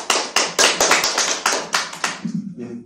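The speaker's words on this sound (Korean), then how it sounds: "박수 한번 쳐주시죠" Audience at a Korean policy forum on fake news claps: a run of distinct, fairly close hand claps with uneven rhythm, trailing off into quiet murmur at the end.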